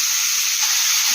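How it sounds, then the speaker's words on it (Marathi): Grated carrots sizzle loudly in hot ghee in a kadai, a dense, continuous hiss that stays even and close for the whole moment. "कढईत तूप गरम झालेलं आहे मित्रांनो। त्यानंतर आपण किसलेला गाजर यामध्ये टाकणार आहे"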